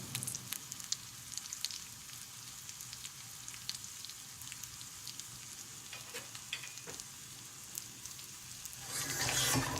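Mackerel fish cutlets frying in a pan over a medium-low flame, giving a soft, steady sizzle and crackle with scattered pops, close and fairly quiet, swelling louder in the last moment.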